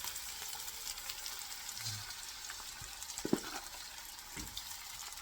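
Marinated pork sizzles in a pan while cooking for garlicky dry adobo, a soft steady frying hiss with a few brief stirring clicks and bumps, close and fairly quiet.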